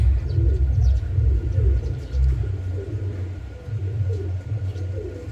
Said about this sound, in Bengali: কবুতর দেখেন, একটা ব্ল্যাকলেস শার্টিং, ফুল ফ্রেশ